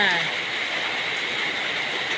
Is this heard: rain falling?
yes